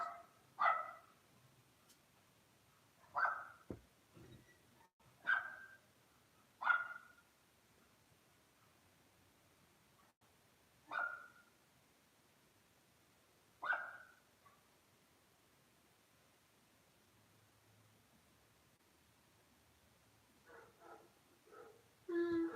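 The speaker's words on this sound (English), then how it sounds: "And that's the neighbor's dog." A neighbour's dog barks in about half a dozen separate bursts spaced several seconds apart, moderately near, with quiet gaps between and a few softer yips near the end.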